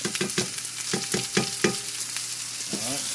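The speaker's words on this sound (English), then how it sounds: "Make sure you stir this up. Break all those onion cuts up." Onions and Brussels sprouts simmering in vegetable broth in a pan, stirred with quick close scrapes and taps in a brisk rhythm over a constant bubbling sizzle, with the strokes thinning out toward the end.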